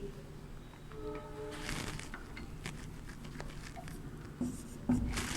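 Pen or chalk strokes of Sanskrit writing come in short scratchy bursts, close and faint, with a few louder taps near the end.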